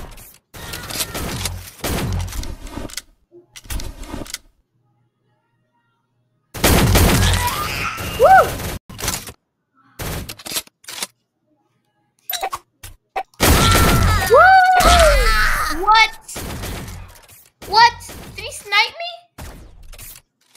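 Gunfire in the online egg-shooter game Shell Shockers, with bursts of shots and sharp impacts coming in clusters, heard alongside a young player's excited talk and exclamations.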